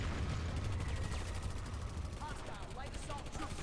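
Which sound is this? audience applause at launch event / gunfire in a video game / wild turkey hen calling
gunfire in a video game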